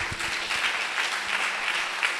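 A congregation applauds to acclaim the Lord at a 2019 church gathering, steady broadband clapping sustained throughout with no voices rising above it.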